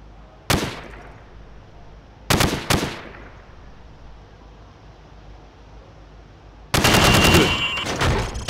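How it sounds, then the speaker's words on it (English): Gunshots at pop-up targets behind plywood in Call of Duty Modern Warfare: three sharp single shots spaced apart, then a long, loud burst of rapid automatic fire closing the clip. "I want you to shoot the targets through the wood."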